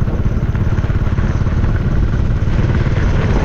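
Father Rex's motorcycle rides along an unpaved island road on Simara, its engine a loud, close, steady drone with rattling clatter running without a break.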